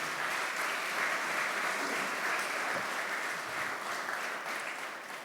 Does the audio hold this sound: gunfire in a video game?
no